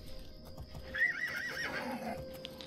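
Black horse in the video game The Elder Scrolls IV: Oblivion giving a clear, wavering neigh mid-clip over soft hoof clops and a quiet ambient backdrop.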